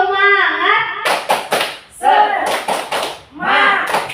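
A group of adults claps a rhythmic cheer pattern in a school training session, with quick bursts of hand claps alternating with chanted voices, close and lively.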